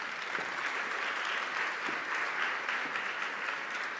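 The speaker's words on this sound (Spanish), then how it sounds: "Le damos un fuerte aplauso a María Elena Úbeda Castillo" Steady applause from a seated audience welcoming a guest speaker at an annual adolescence forum, an even, sustained patter of many hands at moderate distance, with no talking over it.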